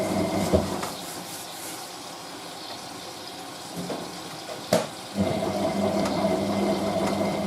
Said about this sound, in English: The machine's filling itself.